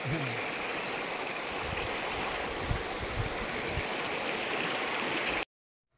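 River water in Palawan flows in a steady, close broadband rush with small gurgles and splashes throughout, then cuts off abruptly near the end.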